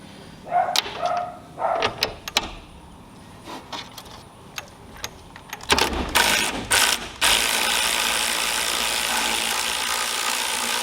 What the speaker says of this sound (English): let's loosen the idler pulley up here